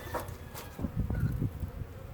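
Honeybees in an opened hive, a low, uneven buzzing hum heard close up, swelling in the middle and dropping back toward the end.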